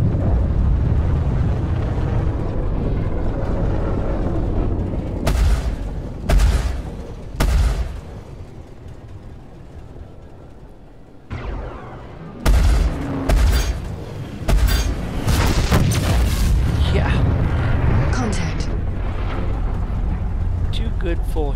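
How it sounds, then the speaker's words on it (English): Gunfire bursts and heavy explosions in the Star Citizen space game: repeated sharp shots and booming blasts in clusters, loud and close over a dense rumbling bed, with radio voices talking throughout. "Shots and they are down."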